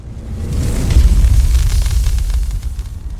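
A deep, sustained explosion rumbles through a fantasy audiobook scene of a temple disintegrating in green fire, swelling to a heavy, loud boom about a second in and rolling on with hissing debris before slowly fading, with no voice over it.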